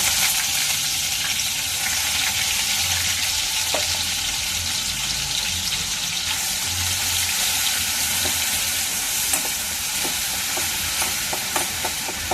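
Masala paste frying in a pan for a brinjal and egg curry, a steady loud sizzle with occasional stirring scrapes and light clinks, heard alone without talk.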